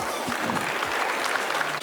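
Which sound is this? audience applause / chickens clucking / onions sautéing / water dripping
audience applause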